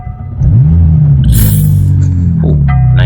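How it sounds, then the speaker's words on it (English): 2019 McLaren 570S engine starting up: a quick crank then a loud bark as revs sweep up and settle into a deep, steady idle rumble, close and dominant with no talking. "Let's get this engine started."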